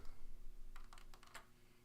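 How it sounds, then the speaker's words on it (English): A short burst of a few light computer keyboard keystrokes, pressing Control V to paste into a Google Doc, clicks close and fairly faint over a steady low hum in a quiet room. "you can use your keyboard and do Control V"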